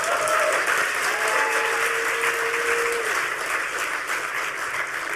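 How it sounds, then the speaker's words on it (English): Conference audience at a hacker event applauding for the badge designer, loud sustained clapping filling the room from start to finish, with a faint tonal whistle or voice briefly threaded through early on. "give him a round of applause"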